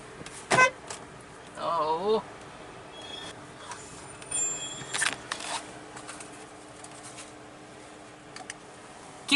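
An RV's horn sounds in a few short honks amid faint background noise and scattered clatter, with a voice speaking at times.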